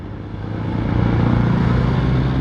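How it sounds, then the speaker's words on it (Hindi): A motorcycle engine revs during rev matching on a ride, a loud low rumble swelling over the first second and then holding steady and strong, close by. "भाईजान, रेव मैचिंग हो रही है।"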